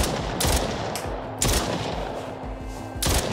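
Gunfire in a VR dinosaur shooting video game: about five loud, sharp shots or short bursts at irregular intervals roughly half a second to a second and a half apart, over a low background hum, with no talk.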